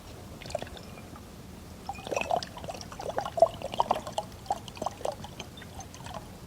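Water glugging out of an upside-down bottle as air bubbles rise in, irregular gurgling pulses close by, picking up after a quiet start and continuing steadily.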